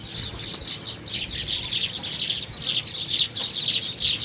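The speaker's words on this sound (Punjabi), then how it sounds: "ਫਿਰ ਇੱਧਰ ਆ ਚਿੜੀਆਂ" Sparrows chirping in a village beside fields being watered in the morning, with many close, bright, rapid tweets overlapping continuously and no one talking.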